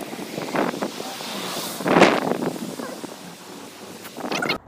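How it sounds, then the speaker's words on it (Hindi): Cold wind gusts buffet the microphone outdoors at Riverdale Park, rising into a strong rush midway, with a voice speaking faintly underneath. "इतनी ठंडी हवा चल रही है यहाँ पे ना।"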